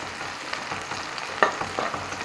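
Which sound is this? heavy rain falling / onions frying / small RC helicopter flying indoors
onions frying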